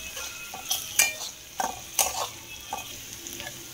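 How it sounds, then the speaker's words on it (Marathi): A spoon stirs red chili powder into a sautéed onion-tomato masala in a pan, giving faint scrapes and clinks of metal over a soft background sizzle, with no talking. "चांगलं मिक्स करून घ्यायचं आहे।"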